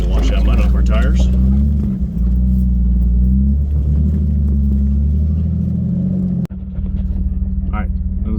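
An off-road 4x4 drops into Poison Creek and churns through the muddy water, a loud steady engine rumble close by with a brief clunk near the end, while people talk over it.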